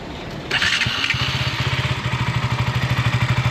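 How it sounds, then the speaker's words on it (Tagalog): A KTM Duke 200 on its stock exhaust pipe fires up after a brief quiet moment, then settles into a close, loud idle with a quick, even thumping pulse, with no voices. "ito naman yung stock pipe ng Duke 200"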